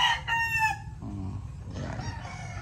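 A Sweater roundhead gamefowl rooster crows nearby, one loud cock-a-doodle-doo over a low background hum, followed by softer clucks from the flock.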